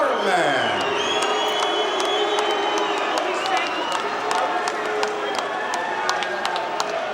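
A large boxing arena crowd roars and cheers after a heavyweight fight is won by TKO, with sustained loud crowd noise, scattered whoops and sharp camera-flash-like clicks, while an announcer's voice carries over the din.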